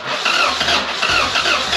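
A B-series swapped Honda Civic engine cranking and trying to start, a continuous mid-pitched rough churn with uneven surges, loud and close, no talking.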